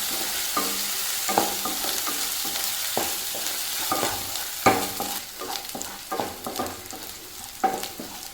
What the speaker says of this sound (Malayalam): പച്ചമുളക് വെളുത്തുള്ളി പേസ്റ്റാണിത് അതിൻ്റെ പച്ചച്ചവ മാറാൻ വേണ്ടി നന്നായിട്ട് വഴറ്റുന്നു